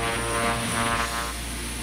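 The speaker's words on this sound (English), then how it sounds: "Propeller plane. Aircraft with one or more propellers for propulsion, common in general aviation." A propeller plane flies past with a steady, loud droning engine hum that holds evenly for under two seconds, with no voices.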